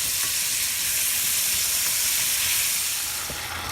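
Lamb, cooked with strawberries, almonds and coconut, sits in a pan as its sauce boils down, a loud, dense, steady sizzle and steamy hiss that eases slightly at the end.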